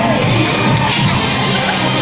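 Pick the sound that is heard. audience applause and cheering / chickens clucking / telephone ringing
audience applause and cheering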